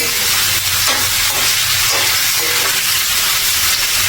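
Ivy gourd and potatoes fry in hot oil in a pan as they are stirred, giving a loud, dense, continuous sizzle and hiss close by, with faint stirring scrapes and no voices.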